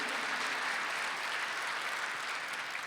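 A church congregation at a Sunday worship service breaks into sustained, dense applause, a broad steady wash of clapping from many hands filling the room without pause.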